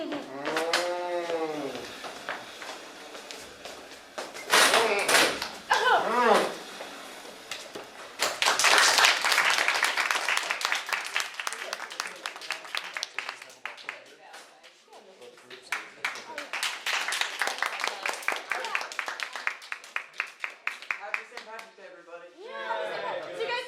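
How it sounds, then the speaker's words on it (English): Audience applause and cheering after a student Shakespeare performance, broad clapping swelling in loud waves with voices and chatter mixed in, rising again later before fading. "round of applause"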